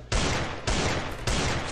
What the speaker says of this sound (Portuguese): o cara tá atirando de arma